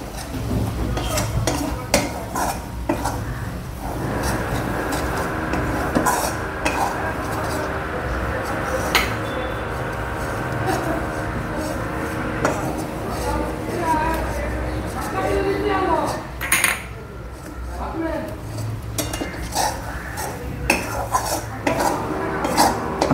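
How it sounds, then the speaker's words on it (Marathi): A spoon scrapes and clinks against a pan as gram flour is stirred into a spring onion stir-fry, with steady soft sizzling and repeated metallic taps throughout, close up, while a person talks over it. "बेसन चांगलं व्यवस्थित मिक्स करून घ्या।"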